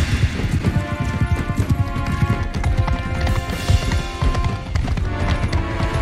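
Horse hooves gallop in rapid, continuous clip-clop beats during a Mount & Blade 2 Bannerlord battle, loud and close over a busy game backdrop, with no talking.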